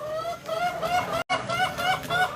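Chickens on a small farm where tilapia are also kept cluck and squawk in overlapping harmonic calls, fairly close and loud, with a brief dropout in the middle.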